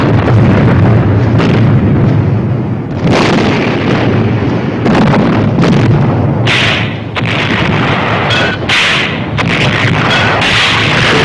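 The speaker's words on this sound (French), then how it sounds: "ce Noël, c'est le pilonnage d'artillerie le plus terrible du siège." Artillery bombardment during the siege of Bastogne at Christmas in World War II: a continuous loud roar of heavy blasts and rumbling explosions, with sharper bursts and crackling impacts piling on one another and no talking.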